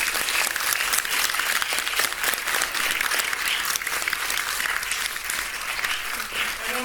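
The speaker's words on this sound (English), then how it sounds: "So just a round of applause." Audience applause fills a Fringe show venue, a dense, steady wash of clapping that stays loud and even throughout with no talk over it.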